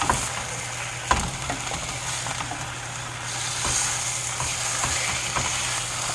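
Taco meat sears in a hot pan, a steady low sizzle broken by a few sharp clicks and scrapes as the meat is pressed down and moved.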